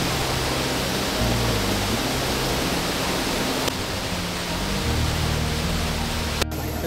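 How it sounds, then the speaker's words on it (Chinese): Shenglong Waterfall at Wulai, Taiwan, in a forest setting: a loud, dense, unbroken roar of falling water fills the whole clip with no variation. "面前这个瀑布呢叫升龙瀑布"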